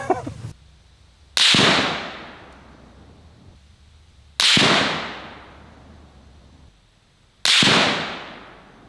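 Three sharp rifle shots, each fired at a target 142 yards away, spaced about three seconds apart, each one loud and close with a long echoing decay that trails off before the next.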